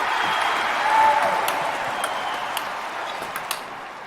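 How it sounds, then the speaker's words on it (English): A crowd in the London 2012 Olympic video game gives steady, sustained applause with a full, even roar and some scattered sharp claps. "The crowd go wild and they respond."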